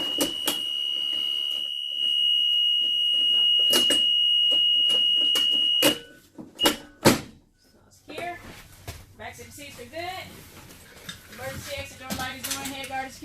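A steady high warning buzzer on a bus sounds for the rear door being open during a pre-trip inspection, holding for about six seconds before it cuts off. A few knocks follow, then a person talks.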